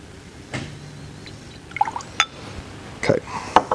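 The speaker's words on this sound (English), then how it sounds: "what we're going to do is we're going to add a little bit of water to it" Water trickles and drips into oil in a small beaker nearby, with a few light splashy plinks, quiet and close.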